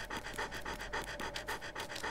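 A dog in a haunted house video game pants rapidly and steadily, quick rhythmic breaths running continuously throughout, fairly close and even in loudness.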